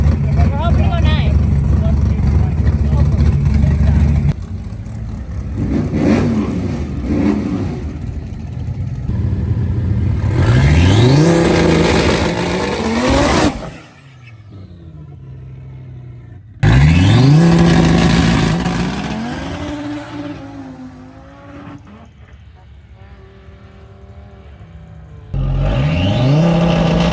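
Street car on a drag strip, a TKX with exhaust off and boost pipe clamped, revving hard as its tires spin without hooking; loud engine surges rise and cut out in bursts, with voices talking over parts.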